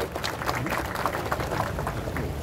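Audience applause at a political event with Aditya Thackeray in Konkan: a dense, steady wash of many hands clapping, with faint voices mixed in, holding at an even level throughout.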